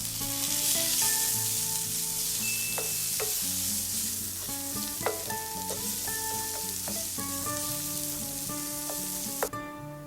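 Tomatoes are added and stirred in a hot pan for dhaba-style paneer tikka masala, giving a steady hissing sizzle with occasional scrapes, partly covered by continuous background music.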